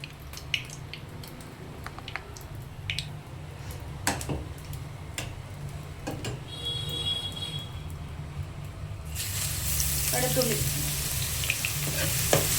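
Something crisps in coconut oil in a pan for a Kerala-style beef curry: a steady close sizzle and crackle with scattered ticks and pops, swelling into a louder, brighter hiss near the end.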